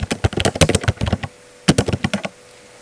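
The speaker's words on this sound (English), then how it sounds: "Type a title on it." Computer keyboard typing a title, rapid loud close-up key clicks in two bursts separated by a short pause.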